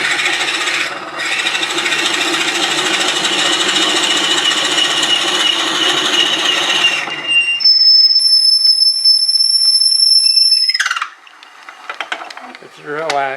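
A wood lathe turning a hollow form: a steady mechanical whir with rubbing and scraping runs for about seven seconds, then stops, followed by a high whine and brief clatter.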